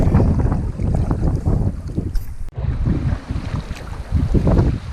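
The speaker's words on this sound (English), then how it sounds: "Alright, hitting some more moving water." A canoe moving through flowing river water on a multi-day trip through the Delaware Water Gap, with steady rushing water and splashing, close and loud throughout, with gusty wind buffeting the microphone.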